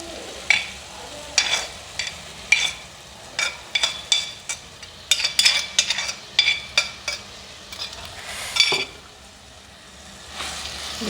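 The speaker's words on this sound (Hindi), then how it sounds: "अब ये जो फलियाँ थी मैंने बॉयल की थी, तो ये मैं इसमें शामिल कर दूँगी" Boiled cluster beans stirred into sizzling fried masala, with repeated spoon scrapes and stirring clatter over a steady close frying hiss.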